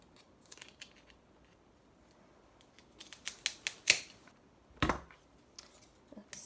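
Scissors snipping paper for a handmade Valentine craft, a run of quick close crisp cuts clustered in the middle, then a couple of louder snips, with no talking.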